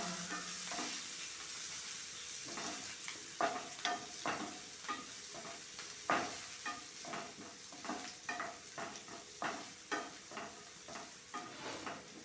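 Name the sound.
sautéing green chillies and curry leaves in a pan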